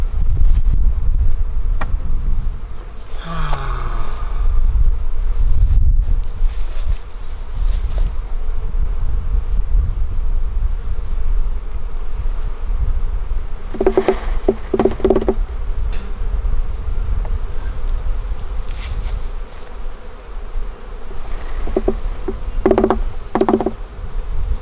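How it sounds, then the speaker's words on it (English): Honey bees buzz loudly and continuously as they are shaken from hive frames while being moved into a bee barn, a dense close hum of many insects with occasional louder passes and handling thumps. "Which means I've got to start shaking bees."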